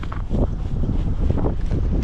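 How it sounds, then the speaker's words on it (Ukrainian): Strong wind buffeting the microphone outdoors on thin lake ice while ice fishing, a loud continuous low rumble with gusty surges and no voices. "Вітер конкретний дує."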